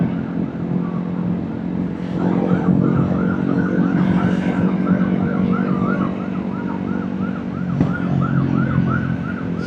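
A police siren wails repeatedly in the background over steady road and motorcycle engine noise, its rising and falling tones carrying on through the whole stretch.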